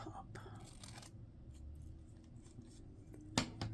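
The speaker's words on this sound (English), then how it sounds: "cut some of this off the top" Scissors snip through paper while trimming the top of a pressed flower specimen card, with quiet, close rustling and soft handling noises, then a sharper, louder cut near the end.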